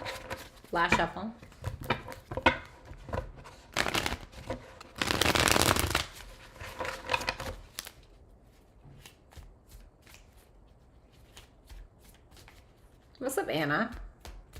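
A deck of reading cards gets riffled and cut up close in quick papery flurries, one long loud riffle in the middle, then quieter taps and a final short shuffle, with speech woven through.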